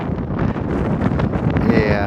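Strong wind on a foggy mountain trail of the Camino francés near 1200 m altitude, buffeting the microphone in a steady loud roar, with a voice talking over it.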